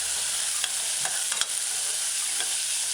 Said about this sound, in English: stir the stew in the saucepan